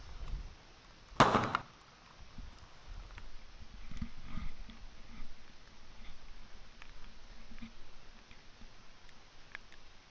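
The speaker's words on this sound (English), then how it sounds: "Dude, we're lighting fireworks" Fireworks being lit outdoors: one loud, sharp burst early on, followed by faint scattered crackles and pops fading into quiet background.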